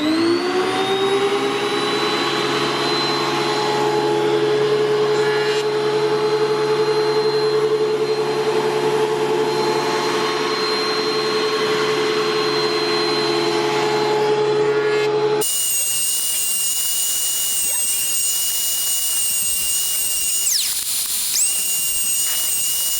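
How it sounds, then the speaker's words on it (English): A thickness planer feeds an epoxy wood sign through with a loud, steady whine and roar. Partway in, the tone shifts abruptly to a thinner, high-pitched hum. "gonna send it through my planer because I want to get all these little cracks that are in there"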